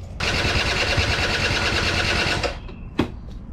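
A 2003 Yamaha Zuma 50cc scooter's starter cranks the engine in one steady buzzing whir for about two seconds, then stops without the engine catching, followed by a couple of faint clicks.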